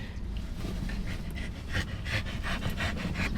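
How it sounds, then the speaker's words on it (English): A dog pants rapidly and close by, quick rhythmic breaths repeating steadily with no voices over them. "you're panting, but you don't want water"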